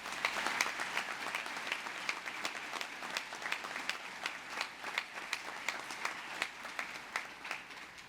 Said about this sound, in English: Let's give him a special round of applause